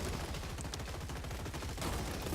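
Machine gun fire in the robot combat game Gladiabots: dense, continuous rapid bursts of gunshots layered with other weapon fire in a busy battle, loud and steady throughout, with no talk.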